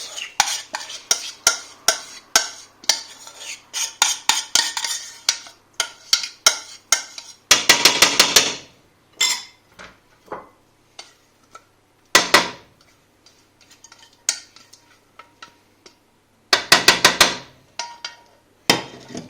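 Cooked risotto is scraped and spooned out of a pan into a gratin dish, giving irregular bursts of utensil clatter and scraping that come close and fairly loud, with quieter ticks between them and no talking.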